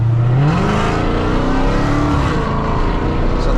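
A 2020 Dodge Challenger Hellcat Redeye engine revving at half throttle, a loud continuous roar rising in pitch as it accelerates, close to the listener.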